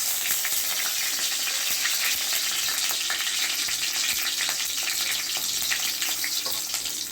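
Nigella seeds, green chilli and garlic frying in hot oil in a pan, giving a steady, close, bright sizzle that runs continuously without talk.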